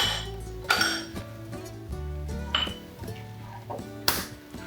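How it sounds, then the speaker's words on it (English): A spoon stirs and scrapes cookie dough with vanilla and sugar in a bowl, a series of close clinking and ringing knocks against the bowl at an irregular pace with a couple of louder strikes, no voices. "you want to stir around and make sure that you've got all of your sugar incorporated"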